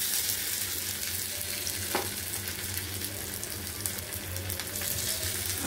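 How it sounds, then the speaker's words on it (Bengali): Ginger hits hot oil in a pan while Bengali food is cooked, giving a steady, dense sizzle and crackle that runs close and unbroken from start to end, with no one speaking. "তেল গরম হয়ে গেছে। এবার আদাটা দিয়ে দেই।"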